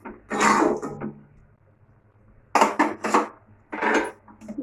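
Clattering kitchen sounds of a cooking pot of boiled taro leaves being uncovered and lifted off a gas stove: three separate short bursts of metallic lid and pot knocks, close by, with quiet pauses between.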